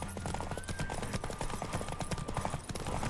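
Horse galloping in The Witcher 3, a steady rapid clip-clop of hooves with a constant rumbling bed of game sound, moderately loud and continuous throughout.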